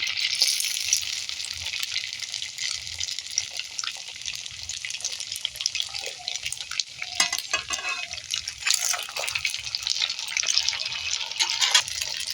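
Rice flour pitha fries in hot oil with a continuous bright, hissing sizzle that runs steadily throughout, close up, with a few faint clinks and shifts partway through and no talking.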